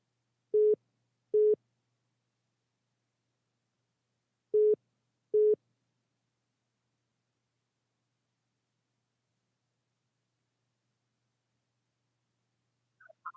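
Four short, clear busy-signal tones sound from a phone after a call is hung up, arriving in two evenly spaced pairs against dead silence, followed by a long quiet stretch.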